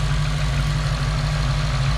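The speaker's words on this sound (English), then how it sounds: "Idling like normal. Pardon the loud valves." An Acura RSX's cammed K-Series engine idles steadily up close with a rapid, loud mechanical ticking from the valves over a constant low rumble.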